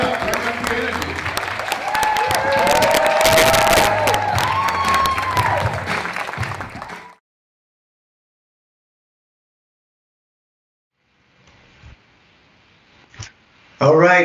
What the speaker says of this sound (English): I want you to give Dan Smith Dwight Pledger a tremendous round of applause